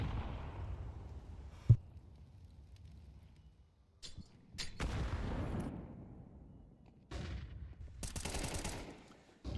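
An AK rifle fires during a competitive online shooter match, heard as a few sharp bursts and single cracks of gunfire. Quiet gaps separate the shots, and background game noise runs underneath.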